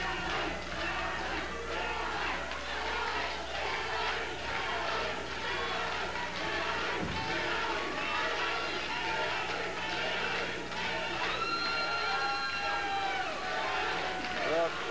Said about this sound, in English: This is the kind of crowd noise we like to hear.